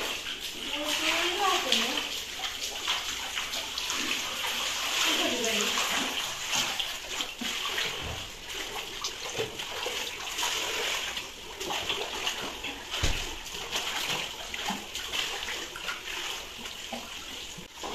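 Flood water flows and splashes near a home, a continuous gushing and spattering stream with irregular sharper splashes, while someone talks over it throughout.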